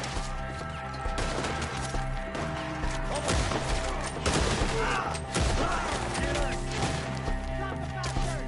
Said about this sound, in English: Shoot the ones up there first!